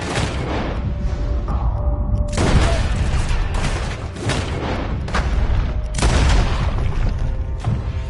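Heavy gunfire in Red Dead Redemption, with loud repeated booming shots and blasts in dense overlapping bursts that fill the whole stretch.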